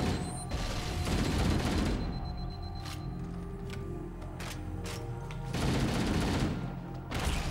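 Game gunfire and grenade blasts in Halo: Combat Evolved, with a burst of fire up front, a scattering of sharp shots through the middle and a second heavy barrage near the end, all loud and close with no talk.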